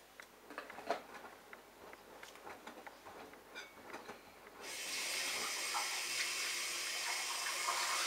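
Bosch Logixx WAS32461 washing machine on a cottons cycle, first rinse: scattered soft clunks and sloshing from the drum, then a steady rush of incoming water that begins partway through and continues evenly to the end.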